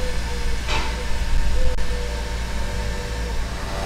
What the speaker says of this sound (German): Richtig uriger Zug.